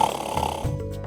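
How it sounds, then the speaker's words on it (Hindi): A recording of loud, close snoring is played as proof: rough, rattling breaths and a snort-like shift partway through, over a low hum. "आपको कभी किसी ने खर्राटे लेते सुना नहीं?"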